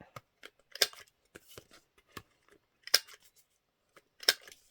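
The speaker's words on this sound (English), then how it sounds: "I'm going to cut my corners. I'm going to do the shallowest cut." Scissors snip through the corners of paper pages for a handmade fairy journal, three sharp, close cuts spaced a second or more apart, with quiet paper handling and rustling in between.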